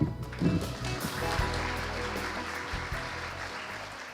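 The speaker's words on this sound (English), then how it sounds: "Please welcome her with a big round of applause." A ceremony audience at the Institut Pasteur Korea 20th anniversary applauds as a guest is welcomed to the stage, a continuous, moderately loud patter of clapping that holds steady throughout.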